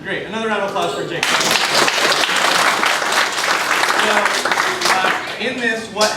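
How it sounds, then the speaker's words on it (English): An assembly audience breaks into loud sustained applause for a performer, dense clapping building and holding steady, with voices speaking over the edges before and after. "Another round of applause for Jake."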